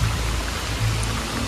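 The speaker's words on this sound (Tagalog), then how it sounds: "Sana naman guys ay huminto na yung ulan saka yung hangin" Heavy typhoon rain and wind in Bicol, a steady rushing hiss with a low rumbling undertone, close and continuous throughout.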